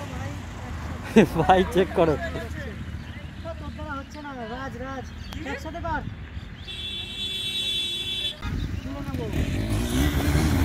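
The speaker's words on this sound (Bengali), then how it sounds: "দুটো বাইক একসাথে বার্ন আউট হচ্ছে" Two motorcycles doing a burnout together on a road make a rough engine drone and roar beneath lively nearby chatter, with a brief higher whine partway through.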